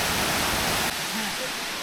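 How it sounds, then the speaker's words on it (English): A waterfall at Luang Prabang gives off a steady broadband rush of falling water, continuous and fairly close, with no talk over it. "There's a waterfall and a little river that feeds it."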